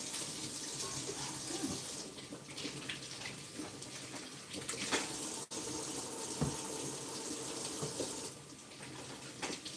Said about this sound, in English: Let's get one more rinse off.